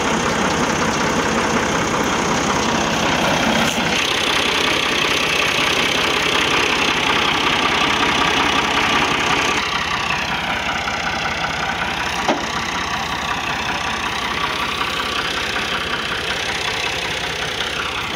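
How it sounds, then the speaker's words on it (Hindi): A Massey Ferguson 260 tractor engine idles loudly and steadily at close range, a constant mid-to-low mechanical drone with no talking. "MF 260 है जी, चौरी सलीम गिल का ट्रैक्टर है जी"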